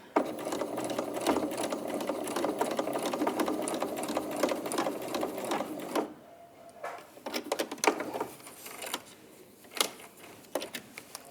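A sewing machine stitches fabric in rapid bursts, running continuously for several seconds, then stopping and restarting in shorter runs, close and clear with faint ticking between.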